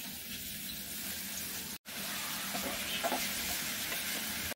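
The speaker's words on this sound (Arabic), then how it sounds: "حطيت حبه زيت اشوحها شويه لحد لما لونها هتلاقوه يتغير" Minced meat sautés in a little oil in a pan for a moussaka-style dish, giving a steady broadband sizzle with soft stirring scrapes and a brief dropout partway through, with no talking.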